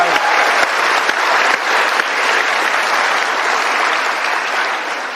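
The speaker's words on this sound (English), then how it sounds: "Let's give her a round of applause for getting through the gauntlet" A college auditorium audience gives a sustained round of applause during an onstage conversation with Jane Fonda, full steady clapping throughout that tapers slightly at the end.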